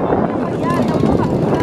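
Racing boat engines drone at the Prajak boat race final, a steady broadband roar with wind buffeting, heard under an announcer talking.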